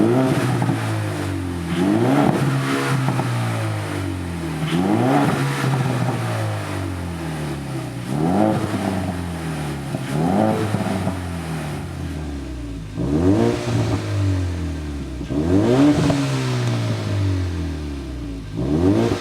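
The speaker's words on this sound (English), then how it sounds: "So we'll let it go through its cold start." A 2022 Ford Mustang EcoBoost with an FFP axle-back exhaust goes through its cold start. The engine revs up and drops back again and again, close and loud, with no talking.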